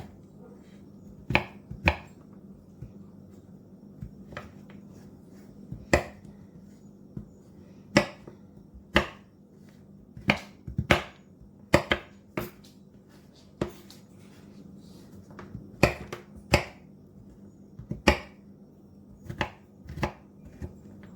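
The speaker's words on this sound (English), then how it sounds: "chop them up finer than I'm chopping it" Knife chopping peanuts on a cutting board, sharp irregular taps close by, sometimes single and sometimes in quick clusters, with quiet gaps between them.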